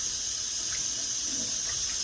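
Tap water running into a sink while rice is rinsed, a steady hissing, splashing stream that stays constant and close, with no talking.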